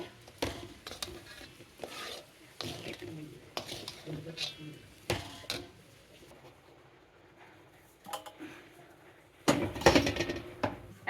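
Nut paste and sesame mixture for makhana laddu being stirred and beaten in a pan, giving repeated scraping and clinking utensil strokes in an uneven rhythm, close and fairly quiet, with a louder burst of clatter near the end.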